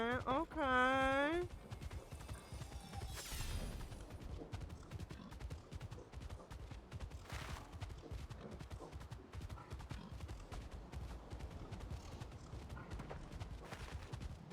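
Hooves of a heavy video-game horse pound in a fast, continuous gallop, loud and close, broken by a rising whinny-like call near the start and a brief burst of rapid cracking.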